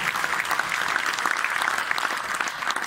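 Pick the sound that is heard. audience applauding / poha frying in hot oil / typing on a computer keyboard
audience applauding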